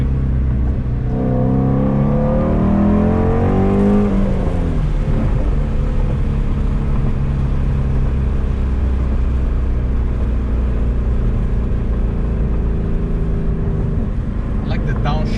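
A 2019 Shelby GT350 engine heard from inside the cabin pulls hard through the gears, then rumbles through a downshift with a rev-matched blip. The engine noise stays loud and steady the whole time.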